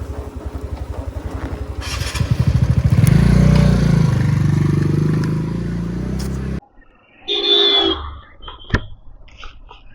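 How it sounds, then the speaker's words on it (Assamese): A motorcycle runs close by with a loud, throbbing engine that rises in revs and then drops away, followed by fainter rattling and a few scattered knocks. "মই এতিয়া বাইক চলাইছোঁ"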